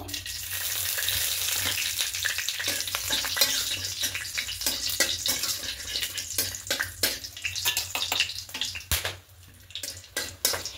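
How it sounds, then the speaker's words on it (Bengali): Whole garam masala of cinnamon, cardamom and cloves sizzling in oil, a loud, close, continuous crackle broken by frequent sharp pops and spatters, without speech. "এবার দেবো গোটা গরম মশলা ফোড়ন, দারুচিনি, এলাচ আর লবঙ্গ"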